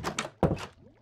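A door placed in a hardcore-mode video game gives a solid wooden thunk, one sharp close knock after some soft clicks, with a faint tail.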